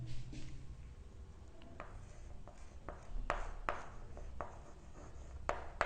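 Marker or chalk writing on a classroom board while a teacher writes out a physics question, with repeated short scratchy strokes over a low room hum, moderately close and fairly quiet, no talking.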